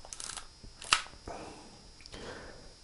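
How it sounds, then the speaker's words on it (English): A 35mm SLR film camera fires its shutter with the mirror flipping up, a single sharp mechanical clack followed by a softer return snap, close and clear in a quiet room. "when the shutter fires, the mirror goes up"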